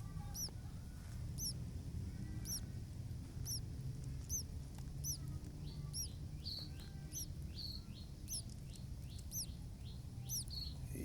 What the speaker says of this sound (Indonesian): beberapa anak burung yang baru menetas